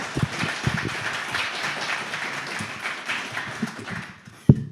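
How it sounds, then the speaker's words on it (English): Audience applause welcoming Kathy Kleiman at a VCF East talk on the ENIAC programmers, a steady moderate patter of clapping hands that fades out and ends with a single thump. "Everyone give a good hand applause to Kathy Kleiman."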